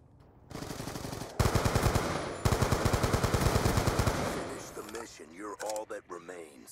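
Rapid automatic gunfire in Black Ops 2, loud sustained bursts of closely spaced shots with a brief break between them, followed by a voice talking.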